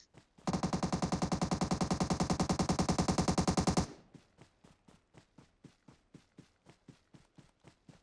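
Automatic gunfire in the PUBG Mobile game: a long, rapid burst of loud, close shots lasting a few seconds, followed by a steady series of quieter single shots at an even pace.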